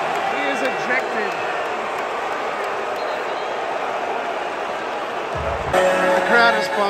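Arena crowd at Barclays Center during a 2022 Brooklyn Nets basketball game, a dense, steady roar of many voices filling the building and swelling louder near the end.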